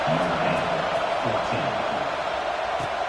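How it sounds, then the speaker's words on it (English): A football stadium crowd in a college game just before kickoff, a dense, steady roar of many voices filling the space, with a commentator talking over it. "this crowd now ready to get behind them"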